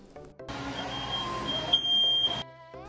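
A smoke alarm set off by fumes from melted plastic on an electric stove coil burner gives one shrill, sustained beep partway through, over a steady whooshing background.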